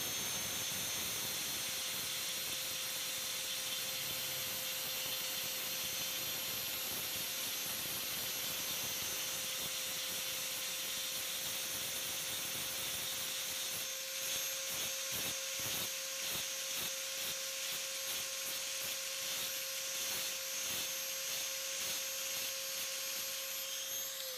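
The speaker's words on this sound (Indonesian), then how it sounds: "satunya lagi kita gerinda" A power grinder works on a Yamaha Mio cylinder head component with a steady high whine and a harsh abrasive rasp, close and continuous, turning choppy and intermittent in the last stretch.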